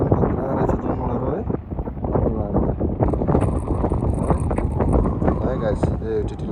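Strong gusty wind roars against the microphone beside Chiti (TT) Lake near Pokhara, Nepal, a steady low rumble that never lets up while voices talk over it.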